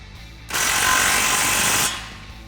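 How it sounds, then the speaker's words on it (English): A 17 mm socket and 15 mm wrench tighten an exhaust flange bolt on an F-150, heard as a loud, dense burst of ratcheting and metal clicking that lasts about a second and a half, then stops abruptly. "Just tighten that down with a 17 mil socket and 15 mil wrench."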